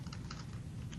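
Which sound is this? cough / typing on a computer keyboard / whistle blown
typing on a computer keyboard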